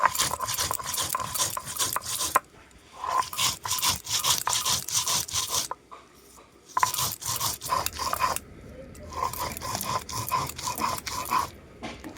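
Coriander, fennel, mustard, cumin and poppy seeds ground with water by a traditional village method make rhythmic rubbing, scraping strokes. They come in bursts separated by short pauses, close and moderately loud.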